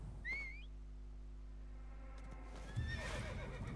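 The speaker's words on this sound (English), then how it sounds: "Called my horse over." A horse whinnies twice and its hooves clip-clop in Assassin's Creed Origins, the neighs high and clear at the start and end over a quiet steady game background, no talking.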